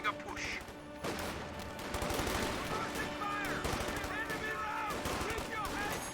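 Bursts of MG-34 machine gun fire and other battlefield gunshots from Company of Heroes 2 crackle in quick rapid clusters, with explosions and steady combat noise layered underneath.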